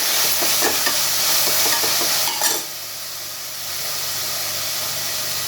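Onions and tomatoes sauté in a pan for vada curry, a dense steady sizzle with scraping stir strokes in the first half, then the frying settles to a quieter even hiss; no talking.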